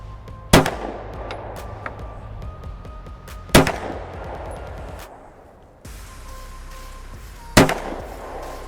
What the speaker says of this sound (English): I'm gonna try to go for that red with some more controlled shots this time.